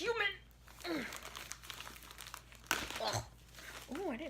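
Plastic mailer wrapping on a ThriftBooks book package crinkles and tears in short bursts as it is pulled open by hand, close and fairly quiet, with someone talking over parts of it.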